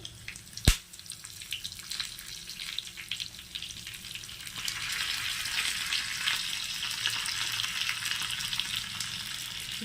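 Mustard seeds, dried chili and curry leaves tempering in hot coconut oil: a steady close sizzle with one sharp pop early on, and the frying hiss growing fuller and brighter partway through.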